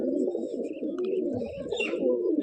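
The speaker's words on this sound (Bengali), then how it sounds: "এই গিরিবাজ পায়রা" Giribaz pigeons cooing softly and steadily in a loft, low throaty coos overlapping continuously with a few faint chirps above, close and moderately loud.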